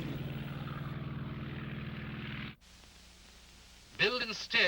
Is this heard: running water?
no